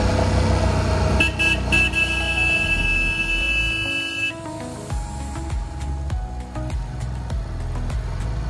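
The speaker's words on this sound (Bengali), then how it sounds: "প্রচুর জ্যাম। বাইক আছে বলে বেরিয়ে যেতে পারছি" Heavy traffic jam on the road from Chandigarh toward Shimla, with several car horns honking and overlapping at close range over a steady rumble of idling engines.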